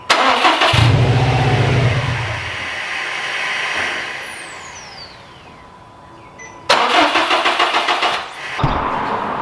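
A 2019 Subaru STI with its fuel pump fuse pulled cranks repeatedly without firing, in two loud bursts of starter churning separated by a quieter pause, heard alone and close up.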